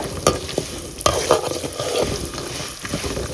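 Peanuts, chillies, ginger and asafoetida sautéing in a pan, a continuous close sizzle broken by sharp stirring clicks and scrapes of the spoon against the pan.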